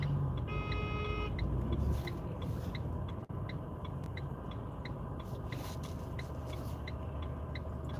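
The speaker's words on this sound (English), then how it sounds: "there are literally cars going everywhere, in every direction" Cars move around a car park in Salford city centre, heard from inside a vehicle as a steady low rumble with a regular ticking beep throughout.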